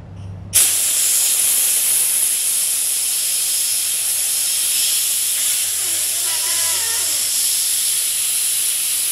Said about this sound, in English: And I'll put compressed air in it so that we can see.